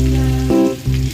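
Shallots, dried red chillies and curry leaves sautéing in hot oil for a mutton chukka, giving a steady close sizzle with a brief stir midway.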